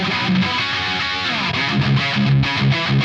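Distorted electric guitar tone run through the NAM Universal amp sim plugin with the Instigator setting, a sustained gritty chord and note pattern playing continuously and fairly loud with no talking.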